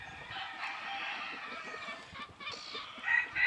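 White Polish chickens clucking and calling together at close range, a steady overlapping chorus of hen chatter that swells louder near the end.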